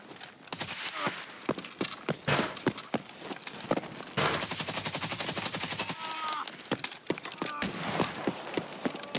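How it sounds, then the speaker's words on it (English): Gunfire in the shooter game Escape from Tarkov: a rapid barrage of sharp, loud shots, scattered single cracks, then a long fast automatic burst, with clattering movement sounds and brief faint talk. "someone sniped me from ages away."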